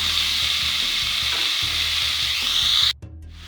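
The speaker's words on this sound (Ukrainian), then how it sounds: "Цибулька стала прозорою додаємо стакан томатного соку." Grated carrot and sliced onion frying in a pan for a stuffed pepper sauce, a loud, continuous close sizzle with faint stirring that cuts off abruptly near the end.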